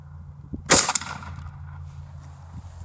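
A shotgun fires a single hot handloaded buckshot round with a roll crimp, one sharp, loud report followed by a fading outdoor echo, with no talk.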